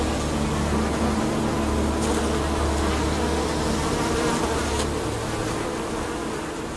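Bees swarm at a bee house in the Spanish countryside, a dense, loud buzzing that drones on steadily and close with a few brief sharp ticks, no voices heard.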